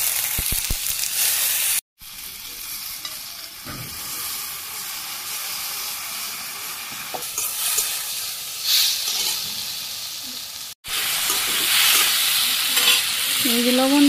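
Tomatoes fry and sizzle in hot oil with mustard seed tempering in a rural home kitchen, stirred now and then with scraping strokes over a steady loud hiss, two brief silent breaks, no talk.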